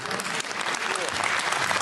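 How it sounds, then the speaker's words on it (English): Audience applause in a studio setting, a dense steady clapping that fills the room for the whole short stretch, loud and continuous with no break. "You don't clap here."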